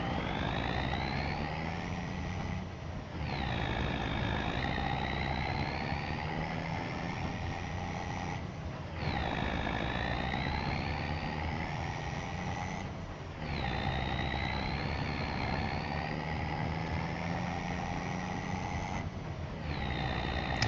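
Trucks and cars in the Farm Sim 25 video game: sustained engine drones with repeated rising pitch sweeps as vehicles accelerate and shift, separated by brief dips, steady and moderately loud throughout.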